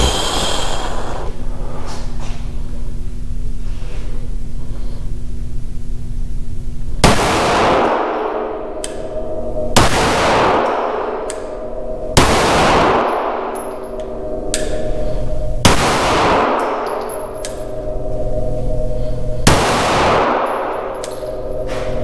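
Sig Sauer P320 X-Full 9mm pistol fired outdoors, five loud sharp shots spaced a few seconds apart, each with a ringing metallic echo, after a stretch of steady background noise.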